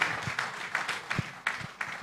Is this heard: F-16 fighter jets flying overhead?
no